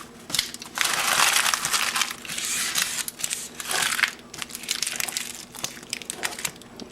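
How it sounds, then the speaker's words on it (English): Dry onion skin being peeled by hand gives bursts of crisp crinkling and crackling, close and fairly quiet, with short pauses between tears. "Peel my onion."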